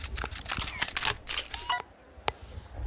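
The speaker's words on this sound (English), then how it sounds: "it sounds like a Final Fantasy camera" Camera shutter and flash sound effects from the video game YouTubers Life. A quick flurry of bright clicks and snaps is followed after a pause by one sharp click, quiet and with no talking.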